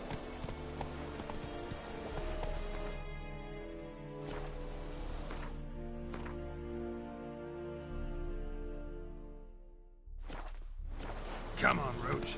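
Roach the horse clip-clops along in a PS4 video game, a steady rhythm of hoof beats with game music and a voice over it, up close and fairly loud.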